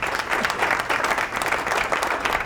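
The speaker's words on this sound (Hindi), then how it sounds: "सही जवाब, तालियां हो जाए जी।" A studio audience applauds a correct answer on a Ramadan quiz broadcast, brisk, dense clapping that stays loud and steady across the short burst.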